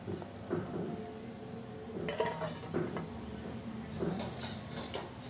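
Boiled cauliflower is lifted from hot water into another pot, giving quiet metal clinks and scrapes of a utensil against cookware in a few short clusters.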